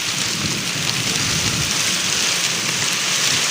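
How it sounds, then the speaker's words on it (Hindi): A heavy downpour roars in a constant, dense wash of rain noise, loud and unbroken throughout, with no talking. "बारिश बहुत आ रही है।"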